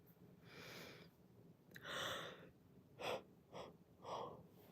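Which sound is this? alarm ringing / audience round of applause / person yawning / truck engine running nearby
person yawning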